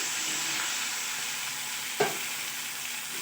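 Drumstick (sajne data) chachchari curry being stirred in a pan after the lid comes off, a steady low sizzle running throughout with one brief clatter of the spoon partway through.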